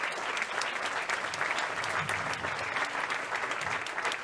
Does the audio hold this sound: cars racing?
no